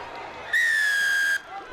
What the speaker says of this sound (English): We have a whistle from our referee, Sindile Ngese